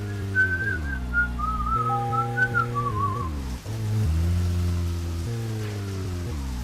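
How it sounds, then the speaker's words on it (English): A character in the Deadly Premonition video game whistles a wavering, meandering tune in short phrases, clear above a low, steady game backdrop that continues after the whistling stops. "Alright, you just wanted to whistle."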